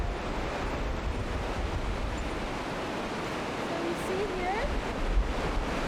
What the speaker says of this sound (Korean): 버지니아 폭포가 가까워질수록 웅장한 소리가 들려온다.